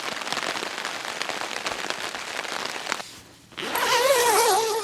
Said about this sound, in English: It's still sprinkling, but it's not pouring like it was before.